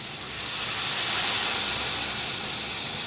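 About half a cup of water is poured into a hot pan of cooking cauliflower stems and vegetables, raising a loud, steady sizzling hiss of steam that swells slightly and holds close, with no talk.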